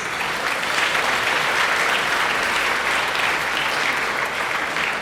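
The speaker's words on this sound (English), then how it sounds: "Let's give them another round of applause." Applause for the graduating class at a high school senior banquet, a dense, even roar of many hands clapping that holds steady for several seconds, fairly loud and with no voices over it.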